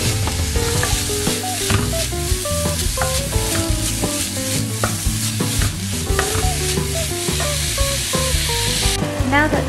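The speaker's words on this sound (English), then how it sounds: "Now that the mince have now been browned off" Minced meat browning in a frying pan for a Slimming World lasagne, a steady close sizzle with repeated scrapes of a utensil stirring through it, continuous and fairly loud, with no talking.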